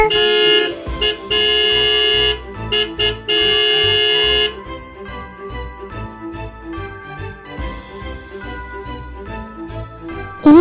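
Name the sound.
garbage truck arriving, horn tooting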